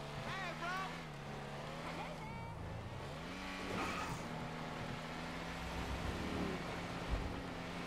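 A Lampadati Michelli GT or Rune Cherburek in GTA 5 Online revs hard at full speed, engine pitch climbing and shifting through gears with brief tire squeal, under a player's talking.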